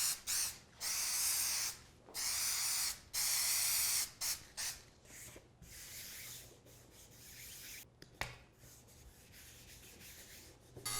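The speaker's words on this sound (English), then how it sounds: "spray some Super 77 on here and glue it to a piece of plywood" Super 77 spray adhesive hissing from an aerosol can onto a paper template, several long close sprays in bursts, then shorter spurts and faint rubbing of the paper.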